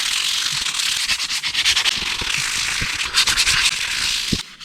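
Sandpaper of 150 grit rubbed back and forth over a pre-sanded 3D printed plastic part, giving a steady close scratchy rasp with uneven strokes and no talk.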